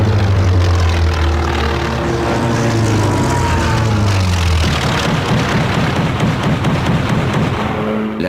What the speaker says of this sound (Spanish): Uno de sus pilotos, el teniente George Gay, de 25 años, baja en picado hacia la flota japonesa